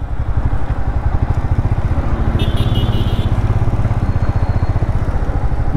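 A motorcycle engine runs steadily and close by with a continuous pulsing throb throughout, near a crowded race start spot on the road from the India–Sri Lanka border to Chennai around Pamban Island.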